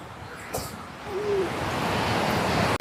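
Steady broadband rushing of a waterfall near a Munnar tea estate, a constant roar that swells slightly and holds throughout, close and loud with no talk.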